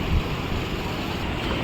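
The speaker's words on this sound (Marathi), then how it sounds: "भरपूर पाणी आलं आहे" Floodwater of the swollen Godavari river at Ramkund, Panchavati, rushes past as a steady, loud broadband roar with wind buffeting the microphone and no speech.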